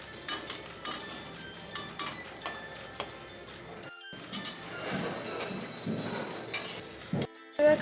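Potato pakoras fry in a pan as they are turned to cook both sides: a constant sizzle of oil runs beneath sharp clinks and scrapes of a utensil against the pan, close and fairly loud.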